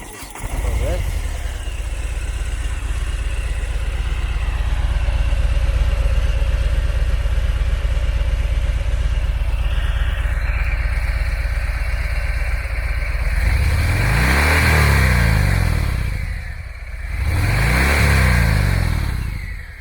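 Harley Davidson Fat Bob motorcycle engine cranking and catching, settling into a deep, loping idle, then blipped through two loud throttle revs near the end.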